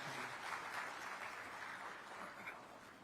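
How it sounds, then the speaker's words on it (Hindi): Applause from an audience at a Raipur government excellence awards ceremony, a soft, steady wash of clapping that sounds distant and low in level, lasting the whole stretch with no voices over it. "आप सभी से आग्रह करता हूं कि एक बार जोरदार तालियों से"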